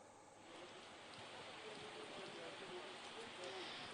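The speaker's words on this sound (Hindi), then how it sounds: "वहां पर इस समय झमाझम बारिश हो रही है" Heavy rain pours steadily beside Dal Lake in Srinagar, a dense, even hiss of drops that swells slightly, with a faint voice briefly audible underneath.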